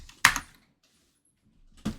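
Short bursts of keystrokes on a computer keyboard, a quick cluster of close clicks, a second of silence, then another brief flurry starting.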